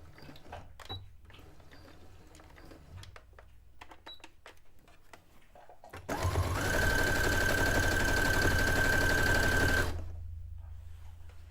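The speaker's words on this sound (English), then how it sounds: "this is stitching very nicely. I have my leather needle still in the sewing machine" A sewing machine fitted with a leather needle whirs steadily for about four seconds, loud and close, after a stretch of quieter handling noises.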